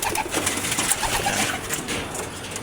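Domestic pigeons just let out of their coop coo and call close by in a steady, busy chorus, with no voices over them.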